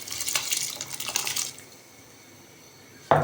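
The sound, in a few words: rice being added to spiced boiling water for biryani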